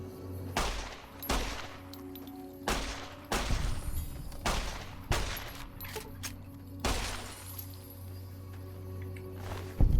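Gunfire from an inaccurate weapon in Fallout: New Vegas: about a dozen sharp, loud shots fired singly and in quick pairs at an irregular pace, close, with little talk.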